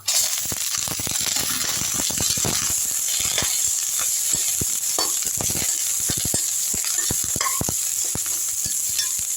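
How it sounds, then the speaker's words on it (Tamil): Dried chillies, curry leaves, ginger and onion fry in hot oil, giving a constant bright sizzle with rapid crackles and pops, close and steady from start to finish. "காஞ்ச மிளகா கருவேப்பிலை இஞ்சி வெங்காயம் இது நாலுத்தையும் வந்து எண்ணெயில் போட்டுடலாம்"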